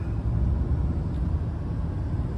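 A 2023 L5P Duramax truck cruises down a country road, heard as a steady low road and engine rumble from inside the cab, continuous and even with no voices.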